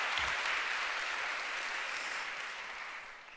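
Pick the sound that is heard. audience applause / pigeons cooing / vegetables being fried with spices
audience applause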